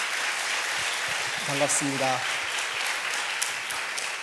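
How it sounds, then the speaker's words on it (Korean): Welcoming applause for visitors at a Korean church Sunday service fills the room steadily throughout, with someone briefly speaking a greeting over it midway. "한번 일어나시면 환영의 박수를 드리겠습니다."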